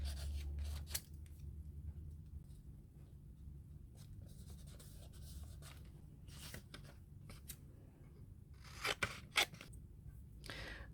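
Scissors snip through a piece of jelly print paper close up, a series of crisp, irregular cuts and rustles with quiet pauses between, ending in a few sharper louder snips.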